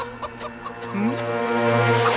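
A cartoon hen gives a few short, close clucks, followed by a rising squawk and a sustained tonal note over music.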